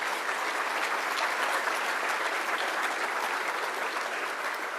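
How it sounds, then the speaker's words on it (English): Dense, continuous applause from an awards-ceremony audience for the standing nominees holds at an even, loud level throughout, with no voices rising above it. "A round of applause for them."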